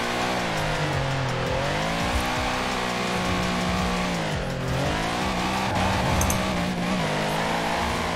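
A Mercedes G65 AMG drifts in the Forza Horizon 4 racing game, its engine roaring steadily at high revs while the tires squeal continuously through the slide, loud and with no talk.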